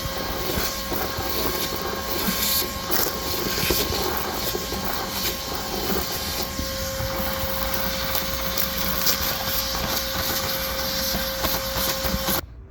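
A vacuum cleaner sucks corrosive residue out of a stainless exhaust, a constant whirring motor drone with a steady pitch that holds at even loudness before cutting off at the very end.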